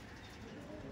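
A Madrasi pigeon gives a brief, faint, low coo under a quiet background.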